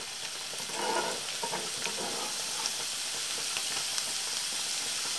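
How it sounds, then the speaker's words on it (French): Chili and garlic sizzle steadily in hot olive oil in a saucepan, a close, continuous crackling fry with brief stirring sounds and no talking. "je viens y mettre mon piment et mon ail à mijoter 2 minutes"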